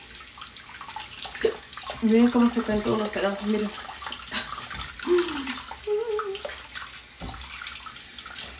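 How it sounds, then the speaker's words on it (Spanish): Hot and cold water run from a sink tap in a steady, splashing stream while someone speaks over it in Spanish. "voy a abrir un poquito el agua caliente y fría"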